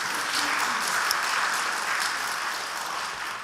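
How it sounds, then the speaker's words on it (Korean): A church congregation at Sunday worship applauds to give glory to God, a dense, even roar of many hands clapping at once that stays steady throughout. "우리 하나님께 한번 영광의 박수 한번 올릴까요?"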